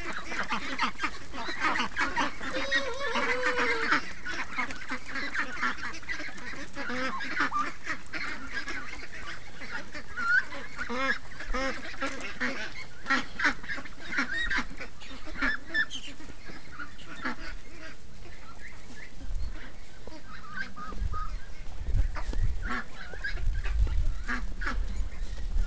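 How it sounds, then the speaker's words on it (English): Ducks being raised in a backyard flock quack and honk almost continuously in a busy, overlapping chorus, fairly close, with a low rumble swelling near the end. "Look at the size of these ducks."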